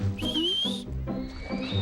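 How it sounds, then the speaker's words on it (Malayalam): Someone whistling in the cold, two sustained whistled tones that rise and hold, separated by a short gap, close and fairly loud with low background sounds beneath. "വേറെ ആരോ തണുപ്പ് കൊണ്ട് ചൂളം അടിക്കുന്നുണ്ടെന്ന് തോന്നുന്നു"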